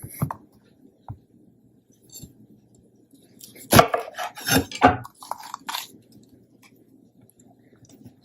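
A few sparse knife taps on a cutting board, then a quick burst of crisp slicing and chopping of bell peppers in the middle, fading to quiet.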